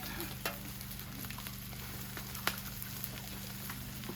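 Egg being scrambled directly in a pan for wild duck fried rice, a faint, steady crackling sizzle with occasional sharp ticks and pops, quiet and continuous with no talking.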